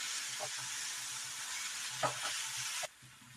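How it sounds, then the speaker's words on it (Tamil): Ingredients for mint chutney sautéing in a pan, a steady broadband sizzle with a few soft stirring scrapes, the sizzle dropping away abruptly near the end. "இப்படியே ஒரு 5 நிமிஷம் நல்லா வதக்கிடலாம்."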